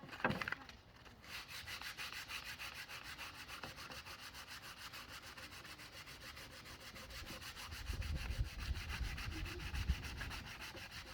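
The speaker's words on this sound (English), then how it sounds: "I just wanted to sand it a little bit more." A thrifted wooden kitchen board being sanded by hand, a continuous close rasping rub of sandpaper on wood with rhythmic back-and-forth strokes and a heavier, fuller stretch of scrubbing toward the end, no talking.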